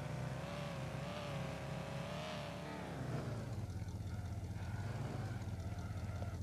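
An Audi A5 accelerating up a steep hill, engine note climbing steadily in pitch, then easing into a lower, rougher drone as the car holds speed, heard from inside the cabin.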